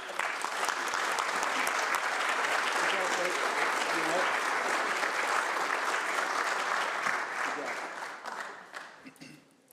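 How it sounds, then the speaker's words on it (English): Sustained audience applause fills a county commission chamber in Sumner County, Tennessee, as students are honored; dense, steady clapping holds for most of the stretch, then thins and tapers off near the end. "let's give them another big round of applause"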